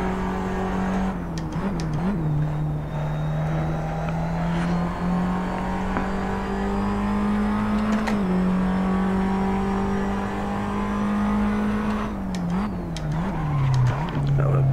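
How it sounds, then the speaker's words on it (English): Race car engine in a racing video game, a steady loud drone that dips in pitch as the car brakes into a turn around two seconds and again near twelve seconds, with faint tire noise. "Try and see if I can brake a bit later here"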